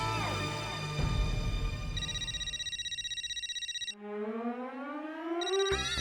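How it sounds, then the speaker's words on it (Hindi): A mobile phone's electronic ringtone plays steadily, a bright repeating tone that shifts into a rising warble before cutting off. "ये माधवी फिर से क्यों फोन कर रही है?"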